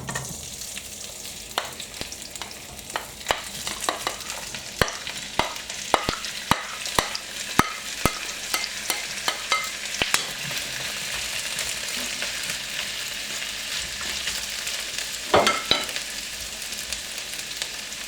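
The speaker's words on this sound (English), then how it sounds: "I'm going to put both the soy product and the veggies in at the same time" Soy product and vegetables frying together in coconut oil in a pan, a steady close sizzle with scattered sharp crackles and pops, with no one talking.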